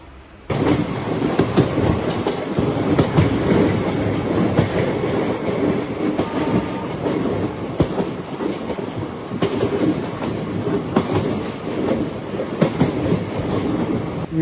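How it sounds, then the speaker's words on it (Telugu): Passenger train rolling slowly through the outer approach to Vijayawada junction, heard from on board: a steady, loud rumble of wheels and carriage with repeated clickety-clack over rail joints, no talk. "విజయవాడ అవుటర్ లో స్లోగా వెళ్తుంది బండి"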